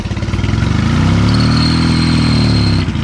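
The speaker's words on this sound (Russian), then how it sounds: "Запустили двигатель с лизунячьим маслом. Со слаймовым маслом." An engine runs with slime mixed into its oil, a loud steady drone with a rising, wavering pitch and a thin high whine, continuous throughout.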